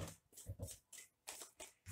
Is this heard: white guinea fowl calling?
no